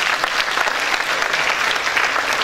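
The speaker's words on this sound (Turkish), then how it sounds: "Kendinizi alkışlayabilirsiniz." Members at a city council general assembly applaud themselves, a loud, dense burst of many hands clapping that stays even throughout, with a faint murmur of voices underneath.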